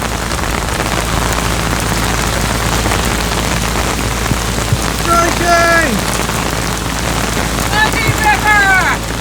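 Heavy rain pours steadily onto a canal narrowboat in a dense, continuous roar, with a brief exclamation and some chatter partway through.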